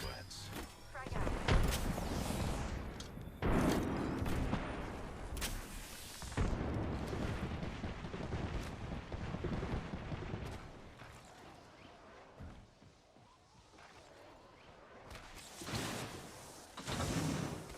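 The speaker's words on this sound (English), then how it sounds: "Throw my grenade out" In a video game firefight, a grenade goes off with a heavy boom among repeated gunfire bursts, whooshes and thuds. The explosions and shots come and go in loud clusters, and a player talks over them.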